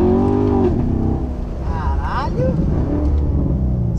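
A manual Corvette's engine revs hard and rises in pitch while drifting, loud and close from inside the car, with an excited exclamation over it.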